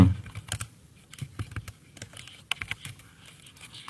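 Computer keyboard typing, close and clear, an irregular run of clicky keystrokes with short pauses between bursts.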